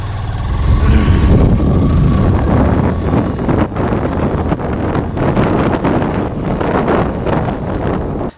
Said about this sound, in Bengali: আমি ভিশন প্রো দিয়ে আমার বাইকটাকে অল্প একটু রাইড করছি